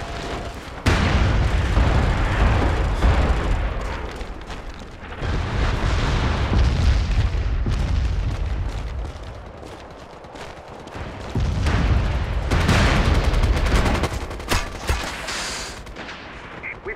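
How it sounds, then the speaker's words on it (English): Incoming artillery fire in the video game MAG arrives as long, loud rolling barrages of booming explosions and gunfire, with a brief lull between heavy waves. "got incoming artillery fire"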